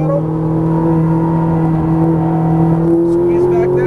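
A Ferrari 458 Italia driven on a race track at Exotic Racing Las Vegas holds a steady, loud engine drone with a rising harmonic pitch as it builds speed. A driving instructor's voice runs over it.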